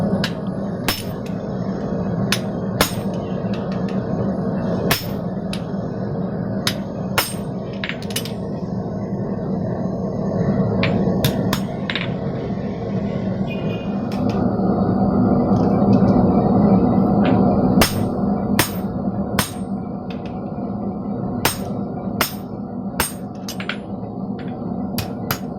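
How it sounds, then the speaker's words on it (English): Sharp metallic hammer blows ring out at irregular intervals over a constant roaring forge as hot steel is worked between flat dies in a guillotine tool while a knife ricasso is forged, close and bright with no talking. "I'm fooling around here with the flat dies in my guillotine tool"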